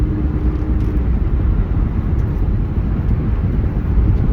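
A 2004 Ford Mustang with the 3.8-litre V6 driving along, heard from inside as a loud, steady low rumble of engine and road noise with no talking.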